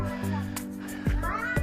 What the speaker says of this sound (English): There's tons of cats.